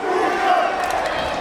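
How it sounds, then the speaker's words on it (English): A boxing tournament crowd roars continuously in a dense, loud wash of cheering and shouting, without a break across the short moment. "What a war we have as the dual Grand Prix crowd come alive once more"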